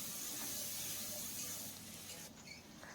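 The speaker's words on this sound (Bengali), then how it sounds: "তারপরে এখানে সামান্য একটু জল যোগ করে দেব।" Water goes into a frying spice paste in a pan for a cabbage curry, giving a quiet, continuous steamy hiss and sizzle that holds steady for a few seconds with no voices.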